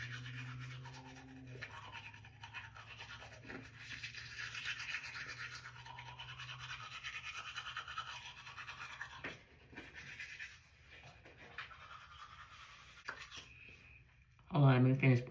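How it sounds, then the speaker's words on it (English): A toothbrush scrubs teeth close up in quick rhythmic strokes that pause now and then, with a loud burst of noise at the very end. "let me finish brushing my teeth"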